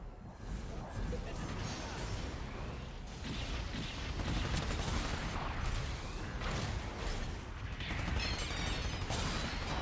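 Rapid gunfire from a Zaku II in the online shooter Gundam Evolution, dense and continuous with mechanical clatter and crashing impacts filling the mix at close range, while a player's voice talks over the action.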